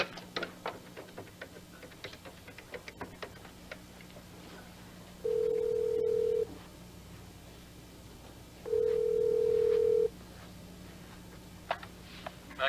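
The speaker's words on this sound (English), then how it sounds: "I'm using your phone." A telephone handset off the hook gives two long, steady tones separated by a gap, faint clicks and soft room noise in between, quiet and close.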